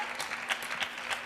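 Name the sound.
hand clap from a coach at table tennis match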